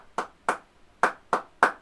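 Five crisp hand claps sound in an even rhythm close by with short silences between them, clapping an ostinato pattern in a music lesson, with no voices.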